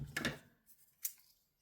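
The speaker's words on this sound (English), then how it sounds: "Not fabric scissors." Scissors make two or three quick, close snips while cutting gel-printed paper for a journal cover tag, each cut a short crisp click in a quiet room.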